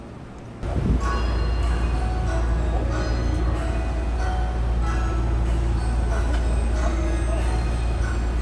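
A Hankyu express train bound for Takarazuka sits at Osaka-Umeda station, and a deep, steady rumble of engine and rail noise starts abruptly and continues with faint clinks and mechanical hum throughout.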